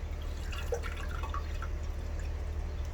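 Water being poured into a bottle for a homemade lava lamp, a faint trickle with light drips over a steady low hum, no talking.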